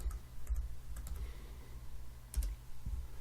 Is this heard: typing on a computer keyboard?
yes